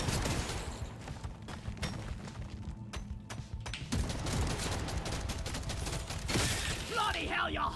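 Rapid bursts of kinetic-weapon gunfire in a shooter game, dense and continuous with sharp cracks, some glassy breaking near the end, with a voice talking intermittently underneath.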